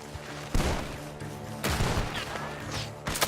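Gunfire in Red Dead Redemption 2 from a barn, with three loud, fairly close bursts of shots spaced about a second apart, set against a low sustained musical drone.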